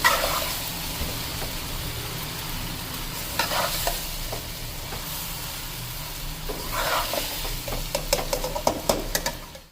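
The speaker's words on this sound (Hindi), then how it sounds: "चलिए हम इसको चला देते हैं बिल्कुल हल्के हाथ से।" Spicy chicken roti strips stirred gently in a frying pan, a continuous soft sizzle with scraping strokes and clinks of the spatula, heard close with no speech.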